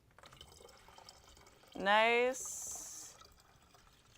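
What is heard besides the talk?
water being poured into a bottle for a fountain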